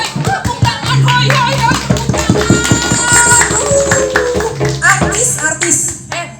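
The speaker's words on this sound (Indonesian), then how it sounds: "Tepuk tangan, hoi." Audience claps in a dense rhythmic burst at a Sundanese comedy stage show, loud and steady under an announcer's voice and shouts.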